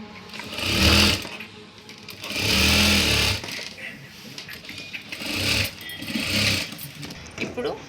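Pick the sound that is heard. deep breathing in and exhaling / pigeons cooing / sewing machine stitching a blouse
sewing machine stitching a blouse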